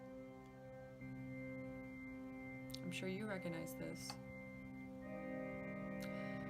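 Sustained organ chords of a character theme sound softly, swelling briefly through a busier middle passage, while a person talks over the music.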